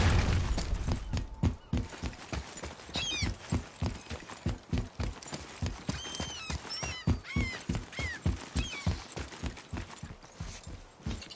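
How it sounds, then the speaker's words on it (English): Horse galloping in the video game God of War, a fast, steady rhythm of heavy hoofbeats running throughout, with occasional whinnies and chirping bird calls over the top. "Once more to the horse!"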